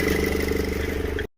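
A car engine idles steadily at close range, an oil leak having it smoking, its low hum continuous for over a second before cutting to a brief silence.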